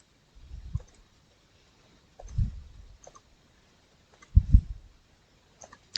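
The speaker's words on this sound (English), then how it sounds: "Tab button is there now in your keyboard, just press that" A Tab key pressed on a computer keyboard while editing code, giving three soft, muffled clicks spaced about two seconds apart, quiet and close, followed by a fainter tap at the very end.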